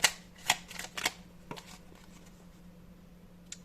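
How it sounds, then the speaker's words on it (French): Tarot cards being shuffled and one final card drawn, a few soft crisp riffles and flicks close by at low volume, then quiet. "Alors, on prend une dernière carte."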